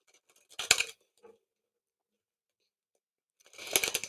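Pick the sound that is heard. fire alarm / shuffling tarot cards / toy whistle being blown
shuffling tarot cards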